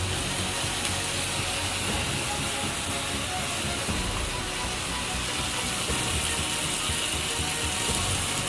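Washed Gobindobhog rice tipped into hot oil and spice paste in a pan, a steady loud sizzling hiss that fills the whole stretch without pause.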